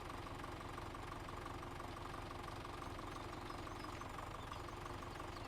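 Ride-on mower engine idling in Farming Simulator 17, a steady, faint, low knocking rumble with an even mechanical vibration that holds constant from start to finish, without voices.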